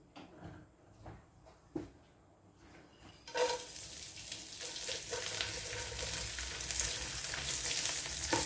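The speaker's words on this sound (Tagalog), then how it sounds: "I-crispy lang natin saglit ang dilis." Small dried anchovies (dilis) hit a smoking-hot wok and fry until crispy. A few faint clinks and knocks come first, then a sudden bright sizzle erupts and keeps hissing loudly and steadily.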